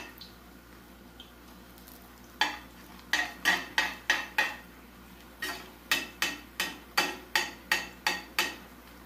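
Spinach and chicken sopes in a pan of oil, a low sizzle underneath a steady run of sharp, evenly spaced taps and scrapes from a utensil against the pan, close and clear.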